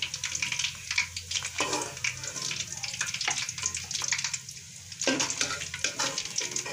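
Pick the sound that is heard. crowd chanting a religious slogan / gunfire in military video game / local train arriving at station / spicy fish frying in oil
spicy fish frying in oil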